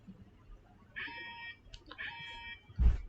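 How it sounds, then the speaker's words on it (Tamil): A computer sounds an electronic alarm after a wrong password entry: two short, fairly faint beeping tones about a second apart, followed by a dull thump. "ஸோ நீங்கள் பார்க்கலாம் சம் அலாரம் சவுண்டு ஆரம்பிக்குது."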